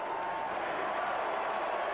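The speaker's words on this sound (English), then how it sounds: "They're chanting, "Thank you, Joe. Thank you, Joe."" A large political rally crowd chanting in unison for President Joe Biden, a dense, steady roar of many voices filling the space without a break.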